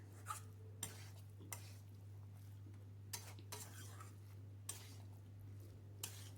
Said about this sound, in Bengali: মশলার সঙ্গে এভাবে কষিয়ে নিচ্ছি